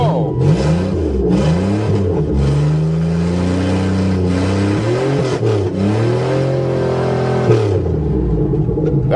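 A Buick Regal engine revving after being repaired, loud and close, with repeated rises and falls in pitch over a sustained idle rumble and no talking.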